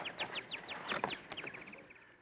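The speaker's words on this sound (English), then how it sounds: "The sick bird's up in our treehouse, Mr. Wilson." Sick bird, a Canadian crested warbler, calling from up in a treehouse: a quick run of rhythmic chirps and squawks, fairly close and moderately loud, with brief clucking notes mixed in and trailing off.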